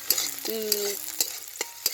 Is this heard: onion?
yes